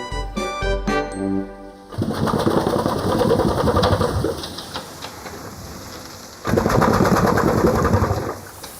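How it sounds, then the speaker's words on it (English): Rhythmic mechanical chugging and clanking of a large early steam engine at Quarry Bank Mill in England, steady with louder surges, alone without voices. "This remarkable contraption is an old steam engine."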